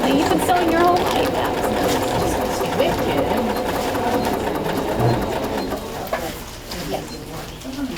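A sewing machine runs steadily with a busy mechanical whir and rattle, fairly close, while people talk over it and the machine noise thins toward the end.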